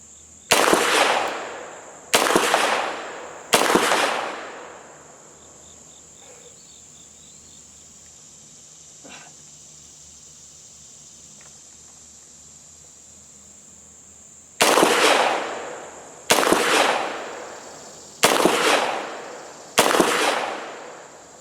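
A Gforce Jawbone 9mm pistol fires three sharp, loud shots in quick succession, then a long quiet pause with faint insect chirping, followed by five more evenly spaced shots.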